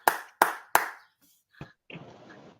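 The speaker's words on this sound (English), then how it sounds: "Oh, I appreciate the applause, fellas." Three sharp, evenly spaced hand claps from a boxing talk-show panel ring out close and loud, followed by a short pause, a faint voice and a patch of soft rustling noise.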